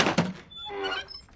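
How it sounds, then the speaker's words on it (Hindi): A door is pushed shut with a single solid thunk at the start, followed by a brief ringing resonance that fades, with no talking. "चल अंदर, दरवाजा बंद कर रहा है।"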